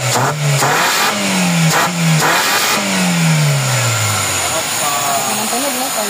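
Car engine revving after a repair for low power, loud and close, with several rising and falling revs over a steady idle and people talking over it.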